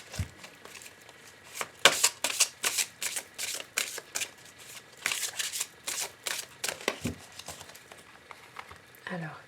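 Oracle d'Arabia oracle cards are shuffled in quick, dry riffling bursts that stop and start over about nine seconds, close and fairly quiet, with a faint soft voice at moments.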